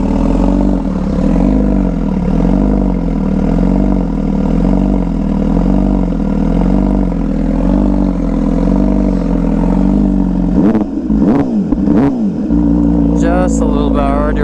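Close, continuous engine rumble from a motorcycle wearing a loud new Rush custom exhaust, wavering in pitch as it is revved, with a few sharp rev bursts near the end.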